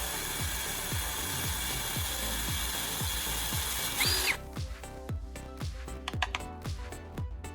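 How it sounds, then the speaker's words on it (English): A drill bores a hole through a lighter casing. Rapid rhythmic ratcheting clicks run beneath steady motor noise that drops away about halfway through, leaving sparser mechanical clicks up close. "Next, I'm drilling a precise hole through one end of the lighter casing."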